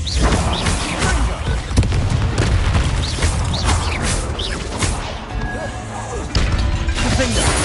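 Confringo and Bombarda spell explosions burst one after another in Hogwarts Legacy combat, loud booming crashes and smashing impacts filling the whole stretch with dense low rumble, while a voice speaks over the din.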